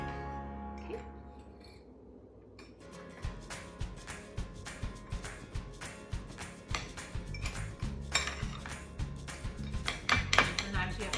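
Eggs for a microwave omelet stirred in a dish, giving a steady run of close, repeated clinks and scrapes of utensil against the dish, growing louder toward the end.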